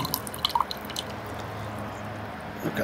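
Scattered small drips of water patter into a shallow tray from an automatic drip watering setup, irregular and close, over a soft steady background hiss with no talking.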